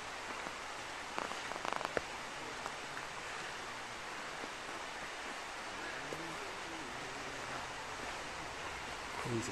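Heavy rain pours steadily at the Olive Grove Garden Centre in Oundle, Peterborough, a dense continuous hiss of drops drumming on surfaces that holds even across the whole stretch, with faint voices briefly under it.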